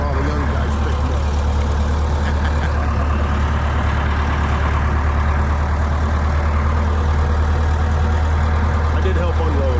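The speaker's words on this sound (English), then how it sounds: "I finally get to drive the tractor" An antique tractor engine runs steadily with a deep, constant low hum and rattling throb, while indistinct voices sit faintly underneath.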